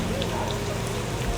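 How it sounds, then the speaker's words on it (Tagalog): Heavy rain pours in a dense, steady hiss that fills the whole moment without a break, loud and close. "Grabe yung ulan"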